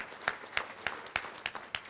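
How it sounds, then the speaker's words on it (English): Sparse audience clapping at a Little Rock Touchdown Club luncheon, a handful of separate claps landing at an irregular pace, thin and fairly distant rather than a full ovation. "Let's give him a round of applause."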